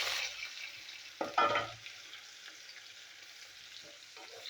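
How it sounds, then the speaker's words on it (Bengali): Chopped onion hits hot oil already tempered with mustard seeds and cumin, giving a steady close sizzle with a louder burst of frying and stirring midway, then settling into a softer crackle. "পেঁয়াজটা একটু ভালো করে ভেজে নিই।"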